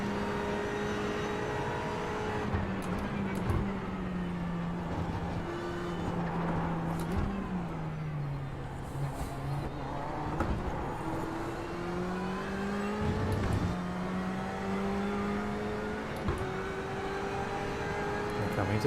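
Race car engine in iRacing at Le Mans through the Porsche curves toward Maison Blanche, a steady close onboard drone with pitch rising and dropping through gear changes, continuous throughout.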